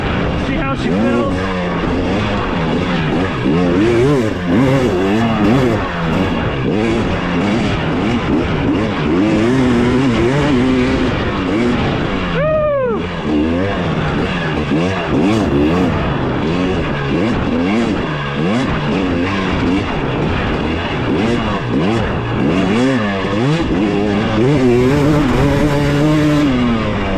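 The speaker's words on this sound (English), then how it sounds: "That's a wrap, guys, on the initial ride of the 2023 Husqvarna TX300." A 2023 Husqvarna TX300 two-stroke dirt bike ridden over a rough turn track, its engine loud and close, constantly revving up and down with throttle blips and one sharp dip mid-ride.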